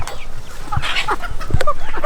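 Chickens and young chicks cluck and peep close by in a backyard coop, with a steady jumble of short clucks and chirps continuing without a break.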